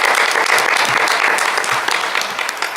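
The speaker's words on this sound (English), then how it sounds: "can we get a round of applause for Onisha, too?" An audience at a housing conference panel applauds, a dense, steady clapping that lasts throughout and tapers slightly at the end.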